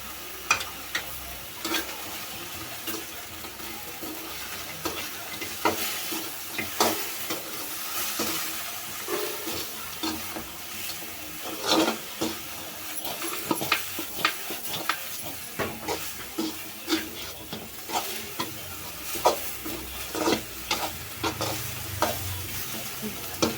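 Cauliflower gobi snack pieces fry in a pan with a steady sizzle, broken by repeated scraping and stirring clatters of a spoon against the metal, continuous and fairly close with no voices.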